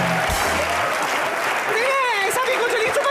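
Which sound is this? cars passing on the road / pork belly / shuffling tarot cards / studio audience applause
studio audience applause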